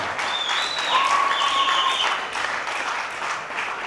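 Audience applause at a K1 kickboxing event, a steady wash of clapping from a crowd with a few whistles, continuous throughout and filling the space.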